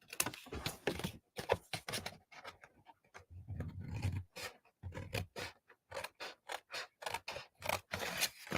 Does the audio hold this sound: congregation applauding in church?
no